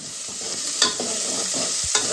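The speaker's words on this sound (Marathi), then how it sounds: "कांदा पण नीट भाजून घेऊया आपण." Onions frying in a pan, a steady close sizzle with a couple of sharp spatula scrapes and clinks as they are stirred, loud and with no voices.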